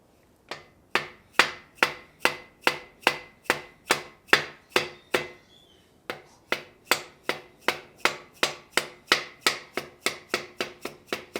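Tapping down main bearing caps on a 6.0 LS engine build, a long run of sharp, evenly spaced metallic taps, about two per second, close and loud, with one brief pause partway through.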